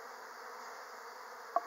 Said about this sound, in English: there's a small group of bees over here on the back